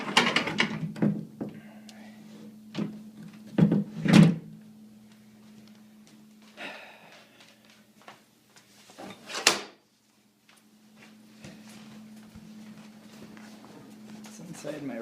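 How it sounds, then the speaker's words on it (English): Indoor doors are shut one after another in a room during a squirrel infestation, giving several separate thumps and knocks spread across the stretch, a couple louder than the rest, against a quiet low hum. "Shut all of these doors."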